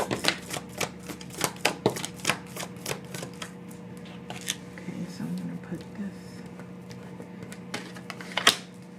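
Tarot cards are shuffled and drawn close by, giving a series of soft snaps and flicks at irregular intervals over a quiet room tone.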